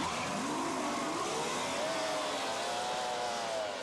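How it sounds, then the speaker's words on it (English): Mercury 2-litre engines on Formula 2 racing powerboats roar continuously and loud around a race circuit, a dense, steady drone with pitch slowly sliding as the boats pass. "the roar of the engines as the Mercury 2 litres powered the remaining boats around the circuit"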